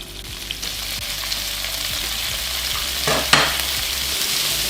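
Meat sizzles and fries steadily in a hot pan for yakisoba, with intermittent scraping and stirring clatter and a brief louder scrape near the end, no talking.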